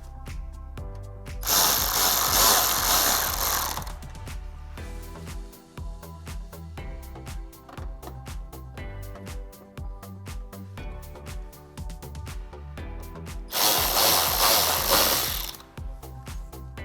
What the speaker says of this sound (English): Grab your Phillips head screwdriver and place your fender liner screws back in.